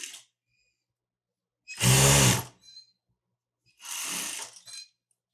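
A sewing machine stitching a Saudi jubba runs in two close bursts: one loud, dense run of about a second, a pause, then a second, softer run, with silence between.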